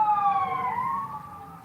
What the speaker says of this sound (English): There's a ambulance that just drove by.